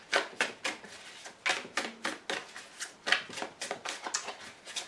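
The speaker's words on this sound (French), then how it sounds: "Et encore une carte de retournée." Tarot cards being handled and turned over on a table, a quick series of soft, close papery flicks and snaps in an irregular rhythm, quiet and without talk.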